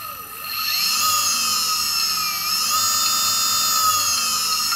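A Hyundai Sonata HSG interior permanent magnet electric motor spins up under sensorless control from a Lebowski controller, giving a steady, loud high-pitched electric whine with harmonic tones that dip and rise again, with no talking.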